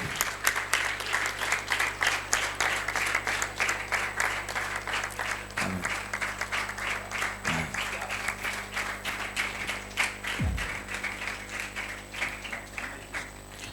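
An audience applauds Bible college graduates at a graduation service, steady dense clapping that fills the room throughout, with a few low thumps and no talk.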